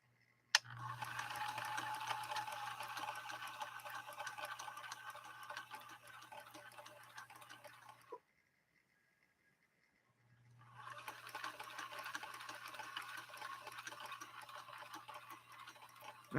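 A Husqvarna Viking 2000 sewing machine sews a 3-point zigzag in two steady runs of rapid whirring, close and moderately loud, broken by a pause of near silence.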